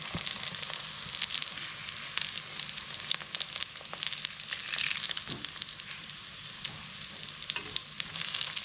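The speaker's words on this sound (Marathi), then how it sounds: "असं आता जे सर्व झालेले आहेत ते मी एक पाच पाच दहा दहा मिनटांनी आलटून पालटून फ्राय करून घेते" Fish cutlets fry in a pan with a continuous crackling sizzle, steady and close, dotted with small pops and scattered sharper spits of oil, no voices over it.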